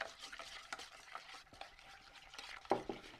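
White sauce of flour and milk being stirred in a pot, with soft scraping strokes and occasional sharper clinks of the utensil against the pan, fairly quiet and close, with no talking.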